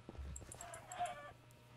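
Chickens cluck in a Minecraft game, a quick run of short clucks and squawks over about two seconds, fairly close with a faint background hum and no talk.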